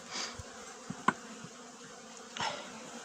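Honeybees carrying pollen fly in and out of a hive in February, a low steady buzzing hum near the entrance, with a few brief louder passes as individual bees zip close.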